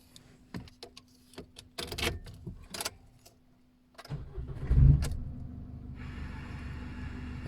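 A 2020 Isuzu pickup is started after a remote key kit is fitted: a few clicks and rustles, then the starter cranks and the engine catches into a steady nearby idle.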